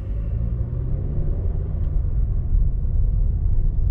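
A car engine hums as the vehicle rolls forward, a steady low rumble that swells slightly toward the end, heard from inside with no talking.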